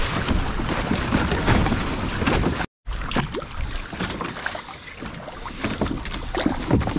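A kayak glides over open water on a fishing outing, with steady wind buffeting the microphone, paddle splashes and water lapping against the hull, one brief dropout midway.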